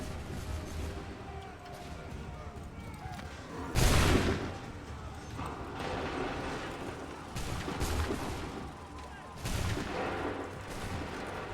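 Repeated musket volleys ring out in Assassin's Creed 3, loud bursts of massed gunfire recurring every few seconds over a busy battlefield din.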